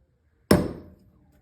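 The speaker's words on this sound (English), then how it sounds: "This is a transfer punch. I'm going to punch out these holes here" A single sharp metallic strike of a hammer driving a transfer punch through a template on a guitar neck headstock, a loud close crack that rings briefly and fades within half a second.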